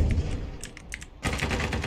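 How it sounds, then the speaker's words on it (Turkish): A computer keyboard key is tapped during play of Sabotaj, a Turkish-made first-person shooter. A few light, close clicks are followed by a louder, denser burst of clatter. "Basıyorum E'ye zaten."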